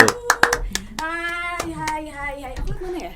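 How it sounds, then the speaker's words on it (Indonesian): An audience at a live stage event gives a burst of sharp hand claps at the start, followed by a sustained, tonal voice-like sound as the clapping fades. "kita sambut dengan tepuk tangan yang paling meriah"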